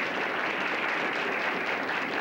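A round of applause from a theatre audience at a mind-reading magic show, welcoming volunteers onto the stage: continuous, fairly soft clapping blended into a steady wash.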